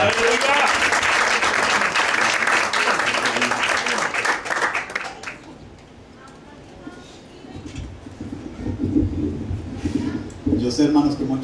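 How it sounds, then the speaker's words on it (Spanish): A church congregation claps for Brother Carlos, a dense loud burst of applause that fades out after about five seconds, followed by quieter room noise and murmuring voices. "Un aplauso al hermano para que se lleve."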